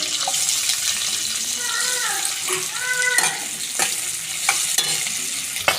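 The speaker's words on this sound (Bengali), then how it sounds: "কড়াইয়ের মধ্যে তেল দিয়ে দিয়েছি দিয়ে আমি প্রথমে পেঁয়াজ দেব" Onions frying in hot oil in a wok, a steady broadband sizzle with scraping stirs and clinks throughout, while a person speaks briefly over it.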